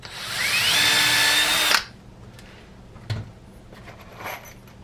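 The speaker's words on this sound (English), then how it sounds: "pilot drill, plumb through" A power drill whines loudly at steady speed for under two seconds while drilling a pilot hole in wood, then cuts off, leaving quiet room noise with a couple of faint clunks.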